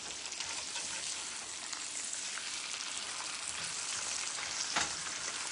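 A ham and Swiss sandwich sizzles steadily as it browns in a hot pan, a dense, even crackle of frying that holds at the same level throughout with a brief sharper pop near the end.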